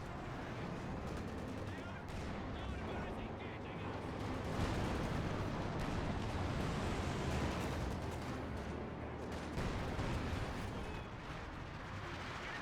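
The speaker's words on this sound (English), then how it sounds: "I hear the artillery barrage eyeing his own members" Dense, continuous rumble of an artillery barrage in Company of Heroes 2, a Soviet versus Ostheer battle, with overlapping booms and gunfire rolling steadily throughout and swelling slightly midway.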